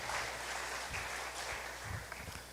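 A church congregation applauds at a distance, a soft steady wash of clapping with a few louder thumps, fairly faint and uninterrupted.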